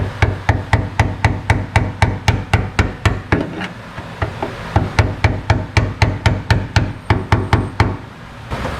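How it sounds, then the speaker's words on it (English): Steady, evenly spaced metallic taps as a hammer drives the lock ring of a fuel gauge sender on a classic car into place, loud and close, roughly two to three strikes per second with a short pause midway. "we're going to tap on it the same way we did taking it off."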